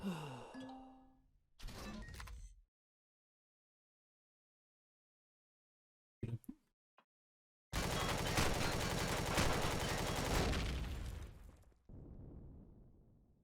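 Turret gunfire in the space survival game Empyrion Galactic Survival: a couple of short muffled bursts and isolated pops, then a loud, sustained rapid-fire volley lasting several seconds before cutting off into a softer rumble.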